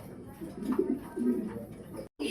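Fancy pigeons at a pigeon seller's coo in low, throaty, rolling phrases, a steady overlapping murmur that swells twice before a brief break.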